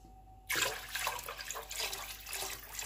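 Water pours steadily into a pot, starting abruptly and running as a continuous splashing gush while cooking Guinean tôh foufou.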